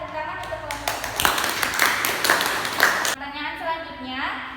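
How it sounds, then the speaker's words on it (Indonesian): A classroom group claps for a team of students during a microteaching lesson: a short burst of scattered hand claps over about three seconds, close and fairly loud, mixed with voices, then the clapping stops and a voice continues. "Tepuk tangan untuk kelompok 3."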